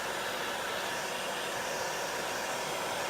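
A hair dryer blows steadily while drying a wreath sign, a constant loud airy whoosh with no change in pitch and no voices over it.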